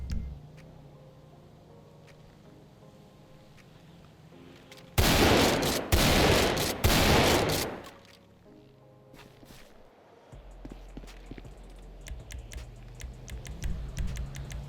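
Pump shotgun fire in GTA 5: a loud burst of rapid, booming blasts about three seconds long, with quiet keyboard tapping and soft in-game ambience before and after.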